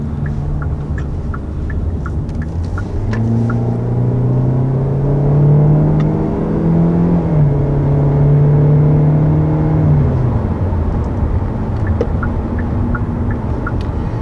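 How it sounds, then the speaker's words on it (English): Cabin view of a 2021 Hyundai Elantra accelerating through its continuously variable transmission: a steady low engine drone with rising and falling whining tones, moderately loud and continuous, with no talking. "you're probably noticing the other aspect of the powertrain, and that would be our continuously variable transmission"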